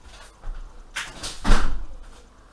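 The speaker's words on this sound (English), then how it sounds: "So what I'm going to do, I'm going to shut the door." A door being shut during rabbit butchery: a few soft knocks and scrapes, then a firm close with a low thud, near and moderately loud.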